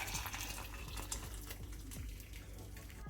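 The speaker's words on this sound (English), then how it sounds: "Place the tomatoes in a pot and add boiling water on it." Boiling water is poured over tomatoes in a pot, giving a continuous faint splashing, gurgling pour from start to finish with no talk.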